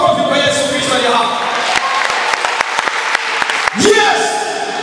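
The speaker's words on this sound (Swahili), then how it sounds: "Ongeza makofi kwa Yesu Kristo aliye hapa" A church congregation at a Sunday service gives scattered applause and sharp claps while a preacher's voice carries loudly over them.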